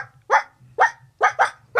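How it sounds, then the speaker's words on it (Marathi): A dog barking loud and close, four sharp barks in quick succession followed by the start of a fifth, with a faint low hum between them. "हे काय, हा कोणाचा कुत्रा?"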